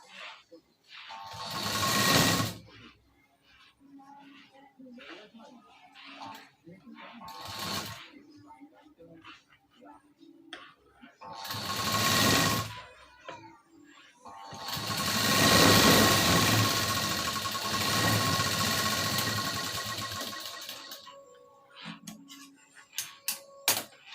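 A sewing machine stitches layered cloth strips together in several bursts of steady mechanical whirring, with quiet pauses and handling between runs and a few faint clicks at the end.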